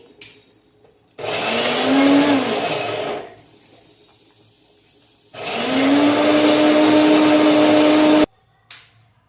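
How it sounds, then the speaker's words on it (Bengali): An electric mixer grinder blitzes spices for a chicken masala in two loud whirring bursts of a few seconds each, the motor pitch rising as it spins up, with near silence between and after. "শেষ হয়ে গেছিল, তো ভাবলাম একটু বেটে নিই"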